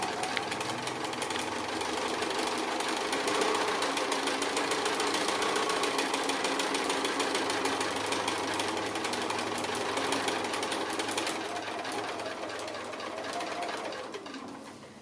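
Sewing machine running steadily while stitching the flap of a fabric envelope pouch at a quarter-inch seam, a continuous close mechanical whir with fine rapid ticking that holds for the whole stretch and eases off near the end.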